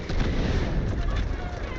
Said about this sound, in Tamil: ராக்கெட் விட்டேன்.